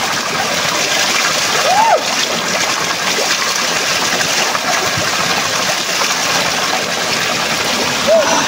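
River water splashes and rushes steadily close by in a forest stream, a continuous broadband wash with occasional brighter splashes and faint bird-like calls.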